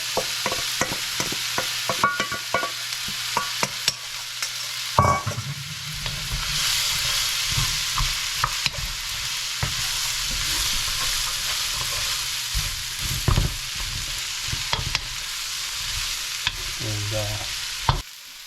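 Cabbage stir-fried with bacon and vegetables in a hot pan, a steady loud sizzle with repeated scraping and stirring clatter from a utensil, occasional louder tosses, no talking.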